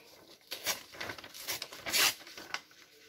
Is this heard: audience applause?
no